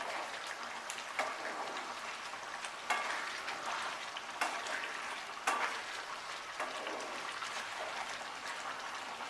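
Ol chingri, a Bengali yam and prawn curry, being stirred in a pan after garam masala is added, giving a steady close wet sizzle with spoon scrapes and soft clacks recurring every second or so, no voices.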